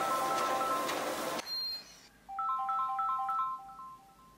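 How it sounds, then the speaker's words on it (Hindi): A phone ringtone plays a repeating electronic melody of short stepped tones, clear and moderately close, following a brief burst of louder background noise. "किसी का फोन आया"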